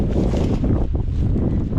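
Steady cold wind rushing and buffeting against the microphone outdoors in a field, a constant low roar with no voices.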